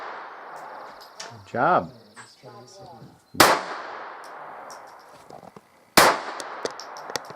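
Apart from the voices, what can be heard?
firearm gunshots at a shooting range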